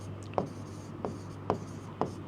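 Marker or chalk strokes on a board during an English lecture, four short scratchy bursts spaced about half a second apart, fairly close, over a steady low room hum with no talking.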